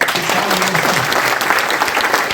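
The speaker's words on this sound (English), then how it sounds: "with a big round of applause" Loud, dense applause from a large university lecture audience, continuous throughout, with a faint voice underneath at the start.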